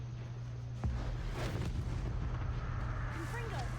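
A Confringo fire spell blast in a Harry Potter-style video game lets out a sudden booming burst followed by a rumbling, crackling tail, mid-distance and fairly loud, with no talking.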